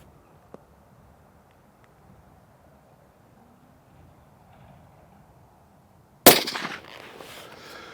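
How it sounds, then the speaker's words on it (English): A Tikka T3X rifle fires a single Remington Core Lock Copper 150 grain round at a 100-yard range, one sharp loud crack near the end after a long quiet stretch, followed by a short decaying echo. "let's try the Remington Core Lock Copper. That's a 150 grain bullet. We'll see how they shoot at"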